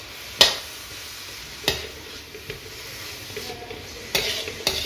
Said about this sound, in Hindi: इसे अच्छे से हिलाएंगे।